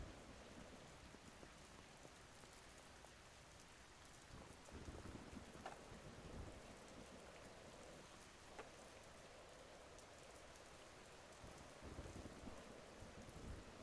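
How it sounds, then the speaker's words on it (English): Steady rain in a video game, a soft, even hiss of falling drops with a few faint low rumbles, fairly quiet throughout, with no talking. "That's so crazy they put rain in this game."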